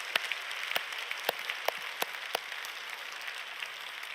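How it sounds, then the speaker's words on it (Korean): A church congregation applauds the youth group at a Friday night service, heard as scattered, fairly faint claps with a few sharper hits, thinning out toward the end. "오늘도 우리 중고등부를 위해서 박수 한번 치겠습니다"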